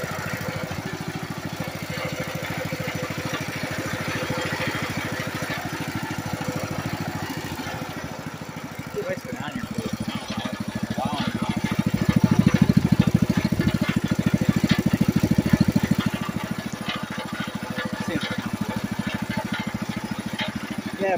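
The small engine of a 1973 Wheel Horse 8 four-speed garden tractor idles close by in a steady, rapid putter that swells louder for a few seconds midway before settling back.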